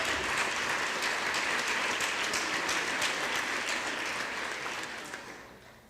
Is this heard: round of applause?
yes